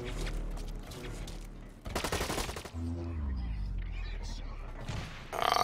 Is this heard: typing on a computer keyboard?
no